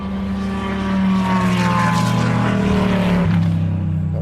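A Ferrari and a Corvette race car, including the chrome number 50 Corvette, pass at Le Mans with a loud, building engine roar that peaks and then drops in pitch as they go by.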